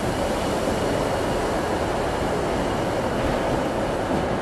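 An old Merseyrail Class 507 electric train pulls out of a station toward Liverpool, a steady loud rumble and rolling roar that stays close and constant throughout.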